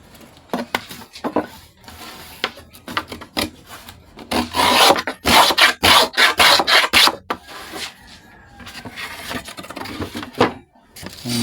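Sandpaper rasps against cracked mahogany wood in quick back-and-forth strokes, an uneven scratchy rhythm that grows louder and faster midway, close up.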